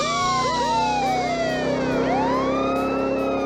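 An electronic Whelen police siren on a 1981 Dodge Ramcharger warbles continuously with rapidly rising and falling tones, loud and close, layered with several overlapping sweeps.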